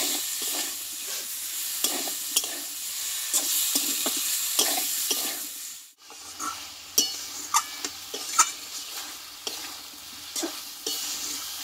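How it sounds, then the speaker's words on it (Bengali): Potatoes and vegetable stems fried with spices in a pan, with a steady sizzle and repeated scraping stirs and clinks of a spatula, close and continuous, with a brief pause midway. "এবারে মশলার সঙ্গে ডাঁটা আর আলুটা আমি একটু কিছুক্ষণ মতো কষিয়ে নেব।"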